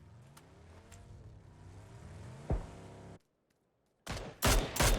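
Bursts of gunfire from a PUBG match, an engine drone under rapid sharp shots, then a brief silence before several loud clustered shots close by.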